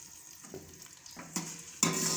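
Chopped onion goes into a pan of hot oil for a mixed vegetable curry, giving a low frying sizzle that swells in steps and jumps to a loud, steady hiss near the end, with faint clinks of utensils.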